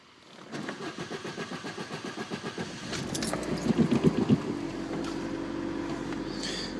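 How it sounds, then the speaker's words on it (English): A car's engine is cranked by the starter in a rapid rhythmic chug for several seconds, then catches and settles into a steady idle hum, heard close and fairly quiet. "Go ahead and turn on the car."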